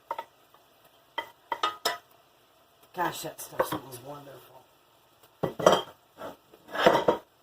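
Browned meat for lasagna is stirred into sauce in a large pan, a metal utensil clinking and scraping in short irregular bursts, with someone speaking briefly between the strokes.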